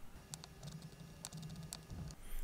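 Faint, quick clicks of typing a name on the keys of a TX16s radio transmitter come in a few short irregular bursts over a quiet low hum.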